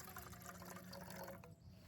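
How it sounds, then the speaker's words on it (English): Water poured into a camping pot on an open fell side during a wild camping trip, a steady close trickling and splashing that runs for about two seconds before easing off near the end, with no talk. "So, put some water in there."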